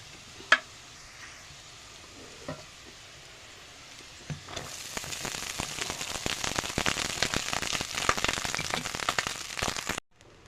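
Cooked rice tipped into a pan of lightly fried onions and dried chillies for cumin rice, then stirred, giving a steady close sizzle and scraping for most of the stretch, after a few faint clinks at the start.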